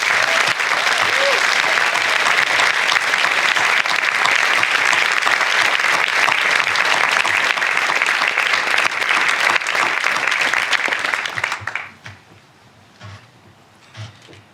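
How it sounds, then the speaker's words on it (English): Commencement audience applauds a graduating class, a loud, sustained roar of clapping for about twelve seconds that abruptly drops away to near quiet with a few scattered claps. "can we get a round of applause for these kids?"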